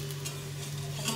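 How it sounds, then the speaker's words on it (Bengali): Vegetable pakora fritters frying in hot oil give a steady, continuous sizzle with a faint low hum beneath, close and even throughout with no talking. "এইভাবে করে সবগুলো ভেজে নিলাম,"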